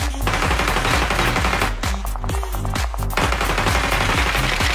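Rapid automatic gunfire from an MG3 machine gun in the mobile shooter Peacekeeper Elite, heard as loud sustained bursts with brief gaps between them, close and dominant throughout.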